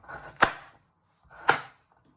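Two sharp knife chops land on a cutting board as a carrot is cut into chunks, each a crisp close thud separated by about a second of quiet.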